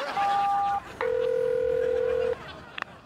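Telephone keypad tones as a number is dialed, two clear steady tones in a row, the second held longer, followed by a faint click; close and alone with no talk.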